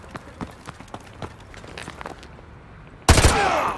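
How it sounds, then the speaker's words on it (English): A single loud rifle shot bursts out near the end in Call of Duty Modern Warfare 2, preceded by quick running footsteps and soft movement sounds during a chase. "Roach, take the shot. Go for his leg."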